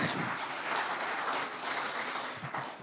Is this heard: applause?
yes